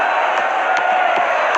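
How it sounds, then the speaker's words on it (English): A football crowd roars steadily in support of their team after a goal, a dense continuous wash of cheering and chanting filling the stadium, with faint brief accents standing out from the din. "the crowd are well behind their team now they've got their goal"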